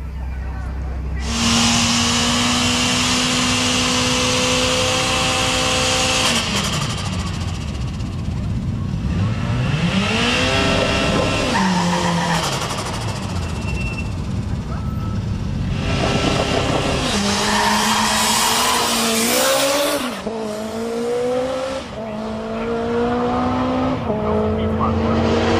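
Nissan S13 Silvia with a CA18DET engine at an HKS street drag event, loud engine revs rising and falling between gear shifts, with tire squeal and a car sweeping past, under steady race-day noise.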